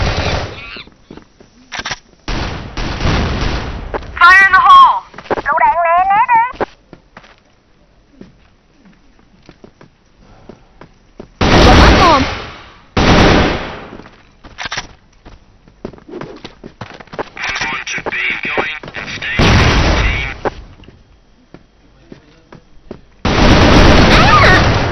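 Grenade blasts and automatic rifle fire, including an AK-47, in a shooter video game, loud bursts of rapid shots and booms in irregular clusters separated by quiet gaps, with a short voice-like tonal sound early on.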